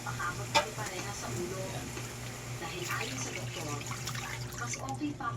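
Broth pours steadily into a cooking pot of red snapper soup, a soft continuous splashing under a low steady hum, with some talking nearby.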